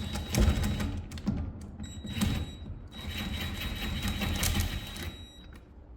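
An impact wrench turned down to low power drives wheel studs on a VW GTI during a lug-bolt-to-stud conversion, giving a string of rattling, buzzing bursts broken by short pauses, close to the microphone.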